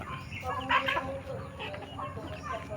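Backyard chickens cluck while feeding on a small farm, with a mix of soft and sharper calls at close to mid distance and a quiet voice now and then.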